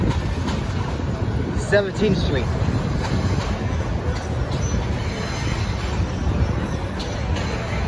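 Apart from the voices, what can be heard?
subway train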